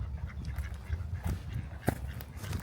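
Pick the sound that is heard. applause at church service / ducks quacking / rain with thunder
ducks quacking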